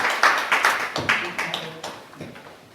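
Audience at a lecture in Sapporo clapping to welcome a sister, several strong rhythmic bursts that taper off and grow softer, with some voices present.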